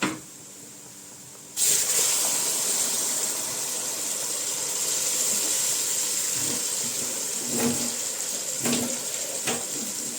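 A loud, steady hissing whistle of steam from a pressure cooker cooking peas, carrots and tomato bursts in after a quieter moment and keeps going, with faint clatter beneath.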